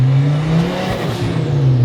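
Turbocharged Volkswagen five-cylinder engine swapped into a Porsche, revving loudly and steadily with a deep, buzzy drone that holds strong for about two seconds, close up and alone.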